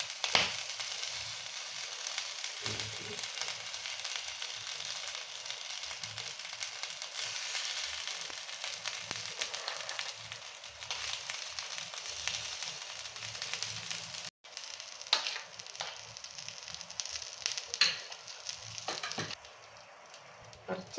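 A dosa cooks on a pan over low flame, giving a faint, continuous sizzle with scattered light crackles and pops that lasts the whole stretch, with no talking over it.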